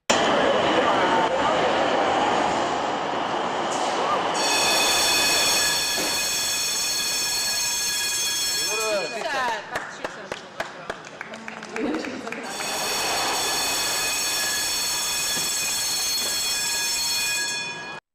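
A tram runs through Brno with a rumbling roll, clicking wheels and high metallic squeals that rise and fade, while a voice speaks over part of it.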